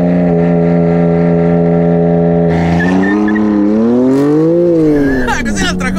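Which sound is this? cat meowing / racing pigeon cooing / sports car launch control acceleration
sports car launch control acceleration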